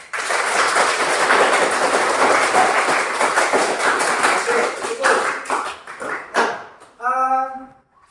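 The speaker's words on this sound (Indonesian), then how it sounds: "Kita beri aplaus untuk kita semua" A group of participants at a teachers' coaching workshop applauds: dense, steady clapping for about six seconds that thins out and fades, followed by a single voice starting to speak.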